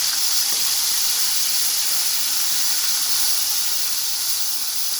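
Onion paste frying in hot oil that was earlier used to cook pomfret fish, giving a loud, steady, unbroken sizzle and hiss close by with no talking.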